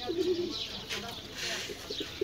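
A big desi pigeon gives a short, close coo, a low throaty burst followed by softer murmurs, with faint background voices.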